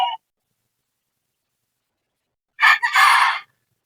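A fighting rooster gives one loud, close crow near the end, its rough call breaking into two bursts, after a brief sound at the start and a long silent stretch.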